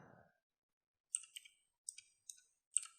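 Keyboard keys tapped to enter an IP address, a few small clusters of light, crisp clicks separated by brief silences, quiet and close.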